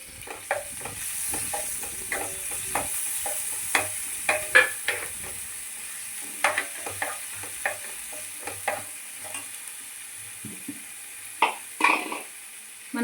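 Onions frying with turmeric and ginger-garlic paste for a tender gourd masala, stirred with a spatula: a steady soft sizzle broken by frequent scraping stirs and clinks against the pan, close and clear, no voices.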